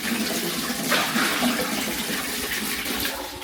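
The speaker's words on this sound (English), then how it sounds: "This is the flushing system." A hotel toilet flushes up close, a broad continuous rush of water that swells near the start and keeps churning steadily for several seconds, with no voices.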